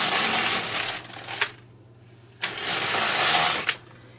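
A knitting machine carriage is pushed across the needle bed for two rows, giving two loud rasping, clattering sweeps separated by a short quiet pause, each ending with a sharp clack.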